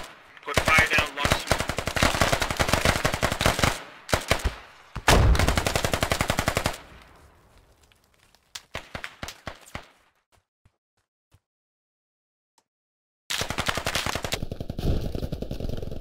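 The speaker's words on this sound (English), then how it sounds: "Put fire down on those bunkers right now." Suppressing machine gun fire in the SQUAD military game: loud, rapid automatic bursts in several strings separated by pauses, then a short quiet stretch before another sustained burst of fire.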